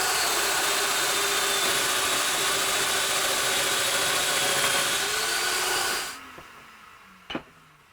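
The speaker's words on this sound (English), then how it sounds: "go ahead and start cutting all of the miters" A power saw whining steadily while cutting miters in ash wood, loud and continuous before spinning down at the end, followed by a single sharp knock.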